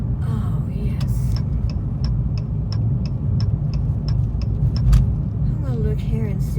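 Car called White Lightning driving, with a low steady engine rumble close by, a regular ticking like a turn signal, and someone talking over it.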